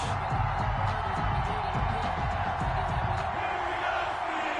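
A simulated stadium crowd before kickoff of a New York Jets versus Pittsburgh Steelers game in a PS4 football video game, a steady, loud, continuous roar of a large crowd with no pauses or talking.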